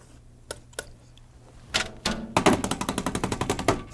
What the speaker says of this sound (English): let's wash the old brush off again.